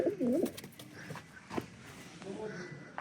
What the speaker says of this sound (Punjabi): ਤੇ ਇੱਧਰ ਰੱਖੇ ਨਾ ਕਬੂਤਰ ਕਬਾਤਰ ਸਾਰਾ ਕੁਛ ਨਾ, ਕਬੂਤਰ ਰੱਖੇ